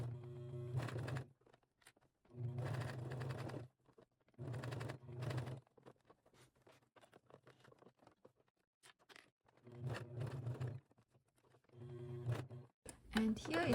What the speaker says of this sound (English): I'm showing you how to make it on a domestic sewing machine, what can work with heavy duty fabrics.